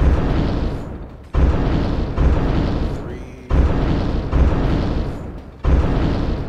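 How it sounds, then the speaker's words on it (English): Repeated loud booming gunshots fired at an enemy in the video game A.R.E.S Extinction Agenda, six heavy blasts spaced roughly a second apart, each a sharp hit that decays into a rumbling tail. "Let's see how many shots it takes to kill this one."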